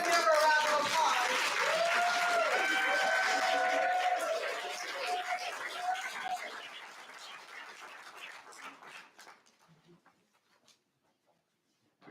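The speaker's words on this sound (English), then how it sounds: "Let's give her a round of applause." Audience at a community college Black History Month program gives a round of applause, loud and full for about four seconds, then tapering through scattered claps and some voices before falling silent.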